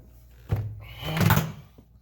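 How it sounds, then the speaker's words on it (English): Door on a Nissan 300ZX convertible opens with a solid thunk followed by a second, louder clunk and rattle, close by and with no talking. "Open the door on up here."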